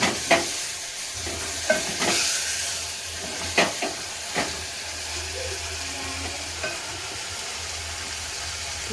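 Boiled chicken pieces being stirred in a pan, with a few sharp clanks of the spoon against the metal over a steady sizzling hiss and a low rumbling hum.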